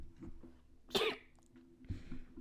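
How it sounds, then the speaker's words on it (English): A single sharp sneeze bursts out close by, short and forceful, surrounded by quiet breathing and small throat noises in a still room. "Excuse me, I have to sneeze."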